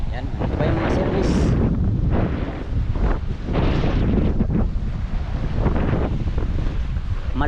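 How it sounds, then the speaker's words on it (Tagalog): Strong wind at sea in the West Philippine Sea buffets the microphone in continuous loud gusts, with churning water and a boat's rumble underneath. "Malakas ang hangin ngayon mga amigo kaysa kaninang umaga, no?"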